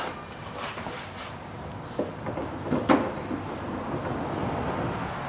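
A few sharp knocks from worn front stabilizer links on a 2008 Dodge Caliber 1.8 stand out over a steady mechanical hum, irregular and close, like loose metal parts clunking as something is rocked.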